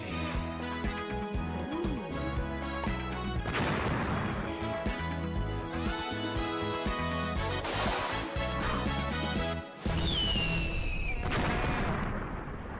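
Explosion and gunfire sound effects in an intro sequence, loud bursts and crashes layered over continuous music, with a sharp cut and a swooshing effect near the end.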